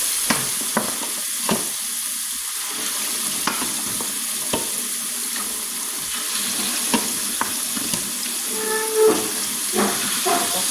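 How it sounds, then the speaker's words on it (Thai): About a kilogram of pork ribs frying in hot oil hiss and sizzle steadily up close, punctuated by sharp crackles and pops, with occasional stirring clatter and no talking. "น้ำมันก็ร้อนใช่ไหมคะ เราก็ใส่หมูลงไปนะคะเพื่อน ๆใส่หมูลงไป"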